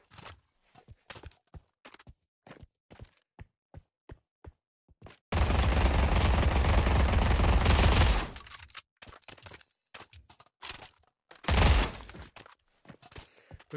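Automatic gunfire in the VR zombie shooter Pavlov: a dense, loud, sustained burst lasting about three seconds, then a shorter burst a few seconds later, set among quiet footsteps and clicks.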